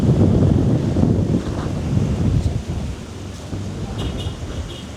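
Strong wind off the open sea in Pattaya at night roars and buffets steadily across the whole stretch, a broad low rumble with gusts, loud and close with no voices.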